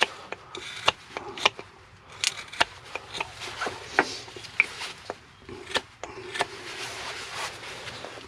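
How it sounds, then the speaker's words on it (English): A knife carves excess bits off a wooden paracord spool, making close, irregular scraping and shaving strokes with sharp clicks and taps, alone and moderately loud. "I'll just get my knife and carve them bits off"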